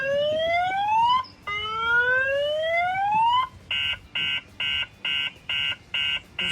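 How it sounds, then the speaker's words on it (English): Loud, near electronic siren from a Dodge Challenger's factory car alarm: two long rising sweeps followed by a steady run of eight evenly spaced pulsed beeps. "any banging around the car will set off the alarm, and then you'll get an alarm alert."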